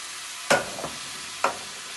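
Tinned tomatoes being stirred into a frying lasagne sauce, with a quiet sizzle underneath and two sharp scraping stirs plus a softer one in between.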